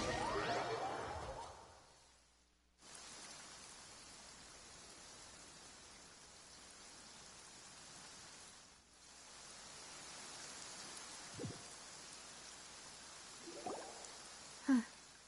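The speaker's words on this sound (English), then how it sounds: "It's been raining" Steady rain falls in Genshin Impact, in the Fontaine region, a soft hissing wash running through most of the stretch, with a brief near-silent gap early on and a few faint taps and rustles near the end.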